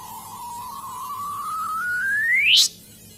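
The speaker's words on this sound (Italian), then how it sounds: "quello che avete sentito è il collasso di due grandi buchi neri" Gravitational waves from two large black holes merging, turned into sound: a clean tone slowly rising in pitch, then sweeping sharply upward into a brief chirp that cuts off abruptly, alone over a faint low background.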